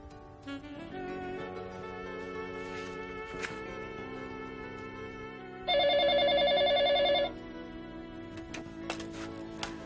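A telephone rings in an indoor scene from an Indian TV serial, one loud sustained ring burst mid-clip over a steady background music bed, no speech.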